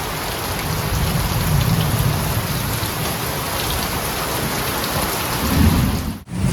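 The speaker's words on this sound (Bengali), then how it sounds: "দমকা হাওয়া, মেঘ গর্জন, প্রচুর পরিমাণে বিদ্যুৎ চমকানো, তার সাথে ভারী বৃষ্টি" Heavy rain pours steadily and loudly with low thunder rumbles rolling underneath and a gusty, wind-driven hiss, continuous throughout with no talking.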